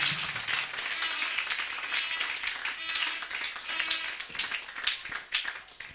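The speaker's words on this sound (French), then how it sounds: "Acclamons pour le Seigneur." Congregation applauding during a church service at Grâce Délivrante Tabernacle, a dense, sustained wash of many hands clapping that stays steady and fairly loud throughout.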